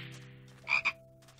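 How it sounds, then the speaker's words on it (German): A toad scorpion creature in the Jurassic World video game gives two quick, hoarse croaks. They sit over a faint steady hum of game ambience, and no one talks. "Ach, das ist wieder so ein Krötenskorpion."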